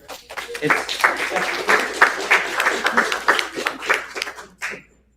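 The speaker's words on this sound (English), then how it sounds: "If you can give yourselves a round of applause, that'd be great." Clapping fills the room as an audience at a scholarship awards event applauds, a dense, steady patter of many hands that rises and dips before stopping abruptly.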